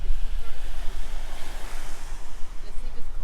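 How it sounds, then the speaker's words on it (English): Ocean surf rolls and washes continuously near an RV park, loud and close, mixed with heavy wind buffeting the microphone. "Look at that ocean."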